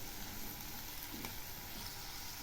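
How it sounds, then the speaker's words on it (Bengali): Onion stalks and tomatoes fry lightly in a pan, giving a quiet, steady sizzle with no talk over it. "এই পেঁয়াজ কলি আর টমেটোগুলো হালকা করে ভেজে নেব।"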